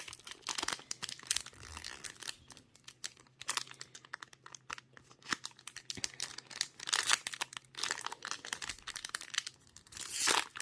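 Plastic wrapping on a Pokémon card box being opened, with close, quiet crinkling and tearing in irregular bursts and no talk.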